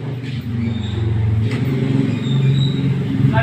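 A low, steady engine rumble from road traffic drones continuously at close range, with a faint whine above it and no clear pass-by.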